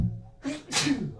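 A single person sneezes in two bursts, a short intake followed by a sharp, breathy explosion, close and fairly loud.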